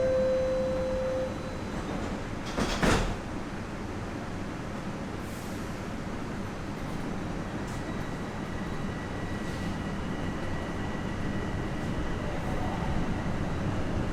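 A TTC Line 4 Sheppard subway train runs underground with a steady, moderately loud rolling rumble and rail hiss throughout, a short chime and a rattle near the start.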